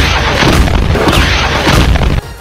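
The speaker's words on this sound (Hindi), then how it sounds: "इराक के उस एयरबेस के अंदर एक के बाद एक जोरदार धमाके होने लगे" Heavy explosions rumble at the Ain al-Asad US airbase in Iraq after drone and missile attacks, a loud, dense, booming roar that stays sustained for about two seconds before cutting off sharply.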